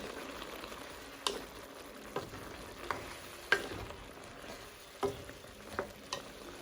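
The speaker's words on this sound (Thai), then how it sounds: "ผัดหมูใส่ฟักทองแล้วก็ถั่วนะคะ" Pork stir-fries with pumpkin and beans in a pan with oyster sauce, a faint bubbling sizzle with occasional sharp spatula taps and scrapes spaced a second or so apart.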